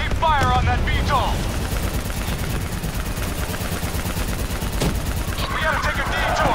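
Automatic gunfire rattles without letup in a Call of Duty: Black Ops 3 firefight against a VTOL, loud dense bursts with heavier booms, and shouting voices break in at the start and the end.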